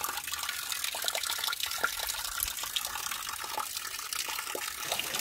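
Mountain spring water flows and splashes steadily at Deokjae Spring beside the Mangwolsa valley trail on Dobongsan, a close, continuous gush with faint trickling detail throughout.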